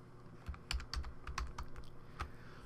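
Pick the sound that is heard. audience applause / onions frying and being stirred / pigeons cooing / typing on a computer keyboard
typing on a computer keyboard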